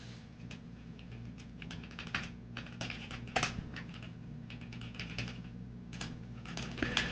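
Keys clatter on a computer keyboard in irregular quick bursts of typing, close and fairly soft, with no talking.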